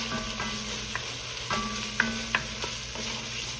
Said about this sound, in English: Add a little garlic in here.